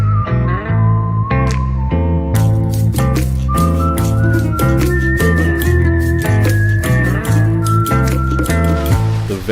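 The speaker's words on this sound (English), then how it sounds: "The very first thing we hear on this album is whistling" Whistling opens an album track: a bright whistled melody of sustained, gliding notes rides loudly over a dense musical backing with steady percussive clicks and deep bass.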